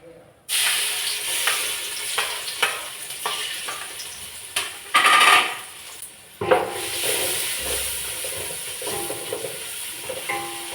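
Onions frying in hot oil for Thalassery chicken dum biryani, a continuous loud sizzle punctuated by repeated scraping stirs and utensil knocks against the pot, with a brief hissing burst midway.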